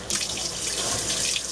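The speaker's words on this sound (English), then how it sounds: "Then just turn the water on. I usually turn hot and cold on just for maximum water flow." Tap water runs steadily into a Haier HLP23E portable washing machine as it fills, a continuous close rushing flow with hot and cold taps open, alone without speech.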